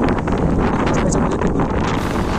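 Strong monsoon wind buffets the microphone on a rainy fort trek up Tikona fort, a steady loud roaring rush with no pauses and no voices.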